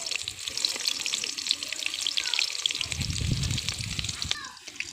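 A bay leaf and chopped onion fry in mustard oil, a steady close hiss and crackle of frying with a deeper bubbling burst partway through; no clear talk.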